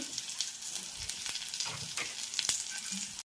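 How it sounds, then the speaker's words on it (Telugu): Steady crackling sizzle of cumin, mustard seeds, curry leaves and asafoetida frying in hot oil as tempering, with small pops scattered throughout, close and continuous, no voices. "పోపు చల్లకి అయిపోయింది కదా వేగింది కదండి"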